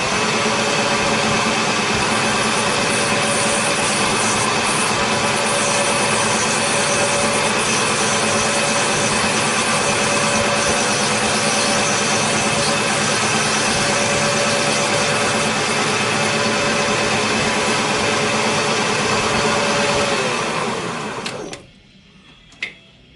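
A machine cuts a throttle cable end in a loud, steady, continuous grinding whir that runs unbroken for about twenty seconds before stopping abruptly, followed by a brief clack.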